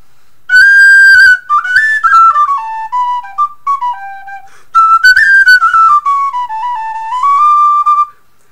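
A Clarke conical pennywhistle of thin soldered metal with a wooden fipple plays two loud, breathy melodic phrases alone, with a brief pause between them.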